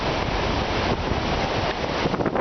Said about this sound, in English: Look how windy it is. It's still howling up here.